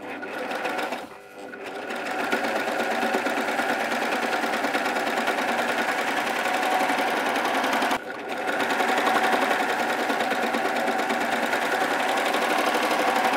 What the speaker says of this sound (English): I'm going to take it to my overlocker and I'm going to serge down there